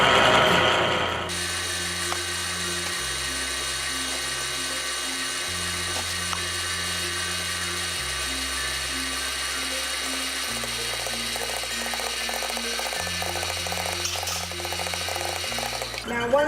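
An electric stand mixer works Lebkuchen cookie dough with flour, salt and spices, giving a steady mechanical whir with a rhythmic stepping hum that runs continuously and close throughout.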